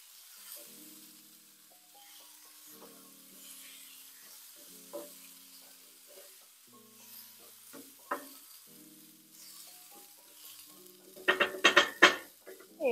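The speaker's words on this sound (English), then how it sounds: "I'm gonna just mix it up because I'm trying to brown the potatoes a little bit." Potatoes browning in a frying pan are stirred with scraping knocks and clinks against the pan, sparse at first and then a busier burst of rattling near the end, over a faint sizzle.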